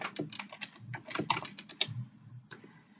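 Quick bursts of clicky keystrokes on a computer keyboard as words are typed into the Windows taskbar search box, close and fairly quiet, with short pauses between keypresses.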